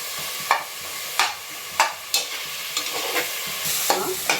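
A spoon stirs chili powder and tomato frying in oil in a pan, with a steady soft sizzle broken by sharp scraping strokes about every half second to second, close up, with no voices.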